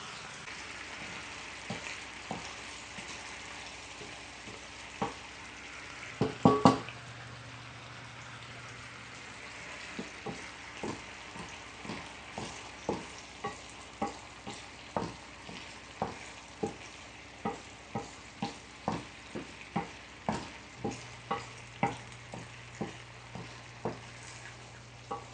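Thai sweet chili sauce bubbling and reducing in a pan, a steady sizzle with rhythmic ticking pops and occasional stirring clatter, close and continuous with no talking.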